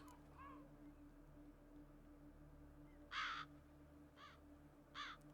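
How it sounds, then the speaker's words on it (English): Crows caw in The Witcher 3 video game, several harsh calls spaced out over a steady low ambient hum, the loudest caws coming in short bursts near the end. "With a lot of crows."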